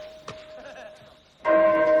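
A school bell rings loudly and steadily for the last half-second, sounding after a quieter stretch with a brief knock near the start.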